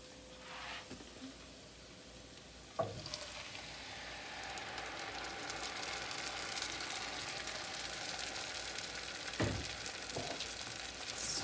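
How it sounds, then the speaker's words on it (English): Pureed tomatoes go into a pan of sizzling onions and garlic, giving a steady, moderately loud frying hiss with a couple of brief clatters, no voices. "So now we're going to add our pureed tomatoes."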